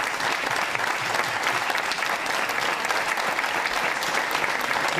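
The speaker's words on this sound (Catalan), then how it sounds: "Reserveu-vos uns quants aplaudiments més" Sustained audience applause at a tribute event in 2012, a dense, even wash of many hands clapping for the whole stretch, no voices standing out.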